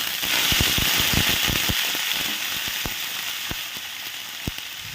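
Beans, potato and carrot frying in hot oil after tempering, a steady loud sizzle with a quick cluster of sharp pops and crackles early on, then sparser pops, with no one talking.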